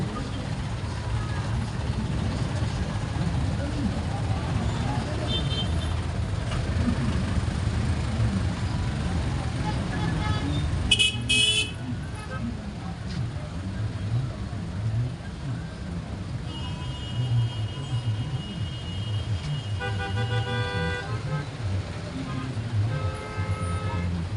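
Busy street traffic near the Malabon fish port, with vehicles rumbling steadily and brief horn toots cutting through, under loud crowd chatter and voices.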